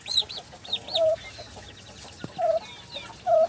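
Domestic turkey poults call near and clear on a farm: several high arched chirps early on, then a few short lower peeping notes spaced apart, with quiet farmyard background.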